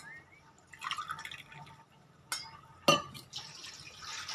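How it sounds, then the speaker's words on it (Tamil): About 200 ml of water trickles and splashes into a pan for instant noodles, with a few sharp clinks and dripping sounds close by, ending in a steady pouring wash. "நான் 200 ml தண்ணி ஊற்ற போகிறேங்க"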